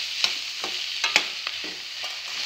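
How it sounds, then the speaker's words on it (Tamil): Green peas and mixed vegetables are stirred in a kadai: a soft, low frying hiss with scattered spoon taps and scrapes, fairly quiet and without talk. "வேணுங்கிற அளவுக்கு பட்டாணி போட்டுட்டு இந்த மாதிரி கலக்கி விட்டுக்கலாம்"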